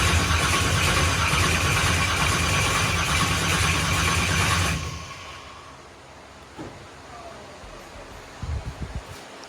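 A supercharged LS V8 fitted with a ProCharger F3-D106 fires up with a loud, dense roar that holds for several seconds, then cuts out abruptly, leaving quiet with a few faint clicks and knocks.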